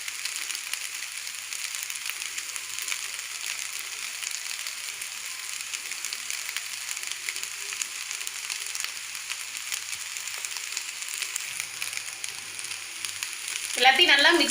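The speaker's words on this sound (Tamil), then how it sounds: "எல்லாத்தையும் நல்லா மிக்ஸ் பண்ணிக்கலாம்." Paneer fried rice with spring onion is tossed and stirred in a pan, a continuous soft sizzle with faint scraping throughout, ending in a brief louder clatter near the end.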